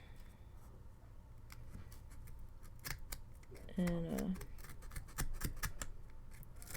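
A few quick scissor snips trim a needle felted Christmas tree ornament, close and fairly soft, under a person's ongoing talk.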